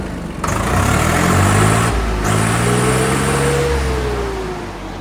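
A tractor engine fitted with a new pump revs up loud and close, climbing in pitch, holding at a strained roar, then easing back down as it idles.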